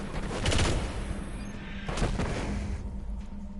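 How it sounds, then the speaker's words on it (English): Gunfire in the PS4 shooter Destiny: two clusters of sharp shots and echoing blasts over a low, steady game hum, with the nearer volley loudest at the start. "Somebody else shooting at me from above."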